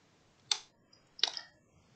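Two quick, sharp clicks of keys being struck on a computer keyboard, close and fairly quiet against a silent background.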